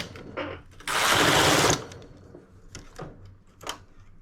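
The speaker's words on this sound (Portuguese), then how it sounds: "a minha máquina não gosta muito de fazer esse tipo de canelado" A knitting machine working a rib stitch: a loud, dense carriage pass of about a second, framed by softer clicks and knocks of the mechanism before and after.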